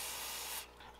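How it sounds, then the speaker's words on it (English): Cleaner sprayed from a spray bottle onto a Q-tip during baitcaster reel maintenance, one close, bright hissing burst lasting about half a second before it cuts off, with no talking. "I'm gonna actually take some of this cleaner and spray it on the Q-tip"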